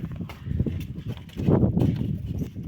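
Hooves of a three-and-a-half-year-old draft horse stallion, a Ukrainian heavy working breed, thud in an irregular walking rhythm as he is led out, close by and fairly loud.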